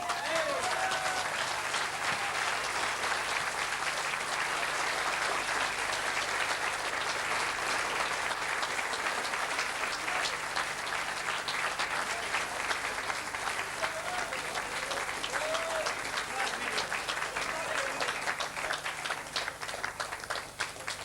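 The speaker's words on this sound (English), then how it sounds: "please give a round of applause to Henry Coyle." Sustained applause from a boxing-event crowd, dense steady clapping that continues without break for about twenty seconds.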